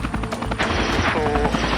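A rescue helicopter over open water drones loudly and continuously with rapid rotor chop, close by and steady for the whole moment.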